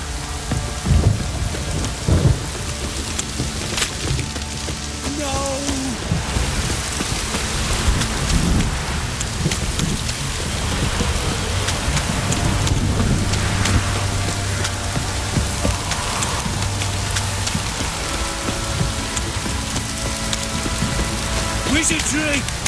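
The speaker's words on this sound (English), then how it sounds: "This downpour's a bastard, it is." Steady heavy rain pours throughout in the video game The Witcher 3: Wild Hunt, with rumbles of thunder rolling underneath in a continuous stormy wash.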